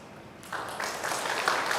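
Applause from a church congregation swells after a quiet moment, a fairly soft, steady patter of many hands clapping at some distance.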